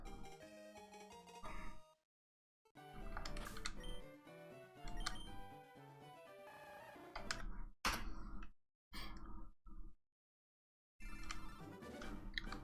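Game buttons clicked rapidly during a Pokémon FireRed shiny hunt, a quiet close-up flurry of plastic taps in bursts separated by brief pauses.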